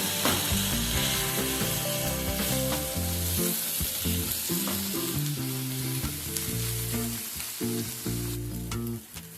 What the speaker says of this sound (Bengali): এবার পেঁয়াজ আর টমেটোটাকে হালকা করে একটুখানি ভাজা করে নেব।